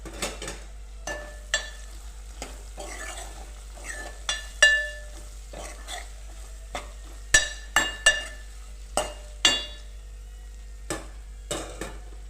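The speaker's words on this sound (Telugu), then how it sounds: "ఇప్పుడు కట్ చేసుకున్న బెండకాయలు వేసుకోవాలండి." Cut okra fries in a pan for a tamarind curry, a soft background sizzle punctuated by repeated clinking and scraping stirs of a metal spoon against the pan, close and unhurried.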